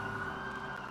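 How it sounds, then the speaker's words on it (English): A steady video game police siren tone hums continuously, fairly faint and distant, with no one speaking. "there's like sirens that are really loud in this direction"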